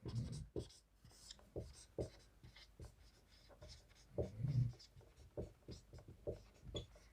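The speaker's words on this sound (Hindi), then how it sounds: "यहाँ हम लिख देते हैं साइड में रिमार्क में" Chalk or marker writing a remark on a classroom board during a mathematics lesson, a series of short scratchy strokes in uneven bursts, close and fairly quiet, with no talking.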